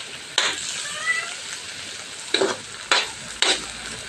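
Ampalaya, bitter gourd, stir-fried in a pan: a steady quiet sizzle punctuated by four or five sharp bursts as the spatula stirs and turns the slices, close up and without talk.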